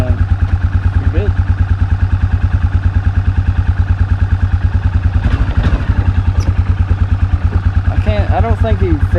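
A 2002 Arctic Cat 500cc ATV engine warms up on choke, idling in a loud, close, rapid regular chug, with a person talking over it.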